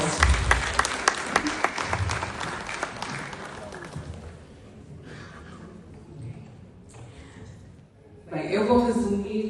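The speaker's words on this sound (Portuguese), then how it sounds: "Os aplausos." Conference attendees give a burst of lively, clattering applause that thins out and fades after a few seconds, followed by a voice beginning to speak over the quiet room.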